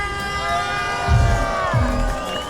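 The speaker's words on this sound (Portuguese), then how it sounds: "Torcida do Rio de Janeiro faz barulho de novo para a Austrália" A Rio de Janeiro crowd at a sailing regatta cheers and shouts for the Australian boat, a steady roar of many voices with louder swells over a bright tonal backdrop of horns or music.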